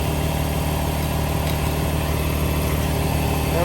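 A Derek Weaver wheel balancer spins a clamped tire and gives off a steady, loud mechanical whir and hum that holds evenly from start to finish, with no voices.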